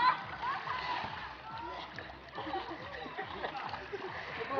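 Repeated splashes as people plunge into water during a children's diving game, a busy rhythm of watery slaps and sloshing close by, with children's voices throughout.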